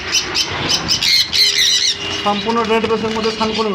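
Harsh, shrill sun conure squawks repeat in a busy, noisy chorus in a bird shop, loud and close, with some high whistling calls mixed in.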